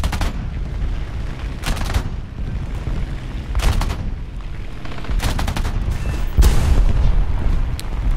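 Aircraft .50 cal machine guns firing in War Thunder, several short sharp bursts spaced a second or two apart over a steady engine drone, with a heavier thump near the end.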